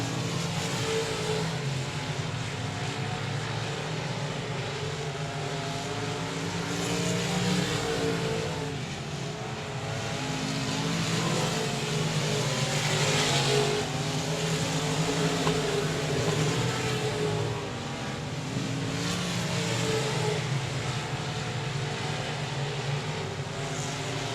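Race cars circle the track at 67 Speedway of Texarkana during a feature race, a continuous engine drone with swelling and fading passes, heard from a distance as a steady roar.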